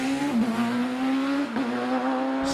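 A race car at the Prescott hill climb accelerates hard in a strong, steady engine whine with two quick gear-change dips, loud and close, with no talk.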